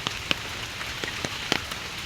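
Rain falls without letup on a garden plot, a dense steady hiss dotted with sharper drips and taps landing nearby.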